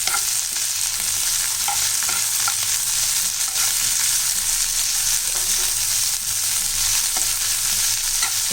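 A handful of mint leaves sautéing in a pan for Tamil tomato-mint chutney, with a steady, close hiss of frying and occasional stirring clicks throughout, no voices.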